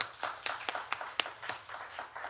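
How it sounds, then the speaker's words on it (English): An audience at a diaspora trade and investment summit claps for a presenter, a sparse, fairly faint patter of individual hand claps in an uneven rhythm. "Let's applaud Equity one more time."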